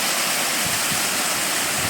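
The Gürgüre waterfall, about 30 to 40 metres high, near Yukarı Civanlı village, gives a loud, unbroken roar of falling water that stays steady and close throughout.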